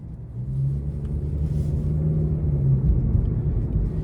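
A 2026 Nissan Sentra SV driving in standard mode, its engine a steady low rumble from inside the cabin with a gently rising drone that dips briefly near the end, and no talking.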